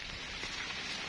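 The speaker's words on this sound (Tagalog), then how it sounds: "Naulan hindi tayo makapag-video." Rain falling outdoors on a farm during a vegetable harvest, a brief, steady hiss of drops on surfaces, soft and even, with no speech.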